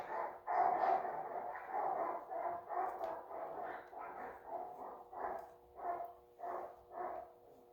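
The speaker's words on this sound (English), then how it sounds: "sounds like my dogs are having a heyday outside." Dogs barking outside a workshop, a run of about a dozen muffled, distant-sounding barks in an uneven rhythm, faint and with no talking over them.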